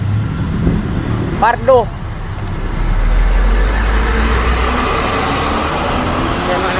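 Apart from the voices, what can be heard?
road traffic in Cebu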